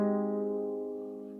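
A seven-string Anglo-Saxon lyre, freshly tuned with its drone strings, rings out as one sustained strummed chord that slowly decays, close and clear with no voice.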